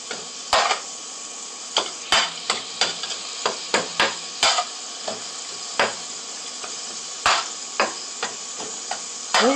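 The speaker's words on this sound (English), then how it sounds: "15 minutes to cook the ground beef to make sure all the pink is out" Ground beef cooks in a pan with a steady sizzling hiss, broken by frequent sharp clicks and scrapes from a utensil, with no talking.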